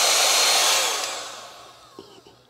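A portable vacuum cleaner's small motor blows a steady whoosh of air out its side exhaust, slowly winding down and fading, with a couple of faint clicks near the end.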